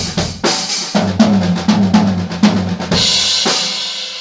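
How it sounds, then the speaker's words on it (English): A drum kit plays a quick run of even sixteenth-note hits in a steady rhythm, close and loud, with sharp attacks over a low tom-like body and a cymbal wash near the end. "When would I do a drum fill that sounds like this?"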